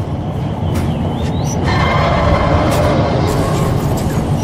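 A train in the video game Crysis Warhead rumbles along in a steady, loud, continuous roar with faint metallic squeals, with no talk over it.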